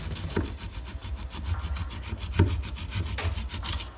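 A red board piece is trimmed by hand for an angled fit, giving a steady run of close rasping, sawing strokes in quick rhythm with no talking.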